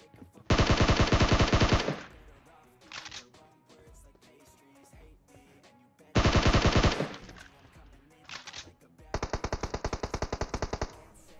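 Automatic gunfire in PUBG Mobile, several rapid bursts of dense shots, loud and close, separated by quieter gaps with softer single shots in between.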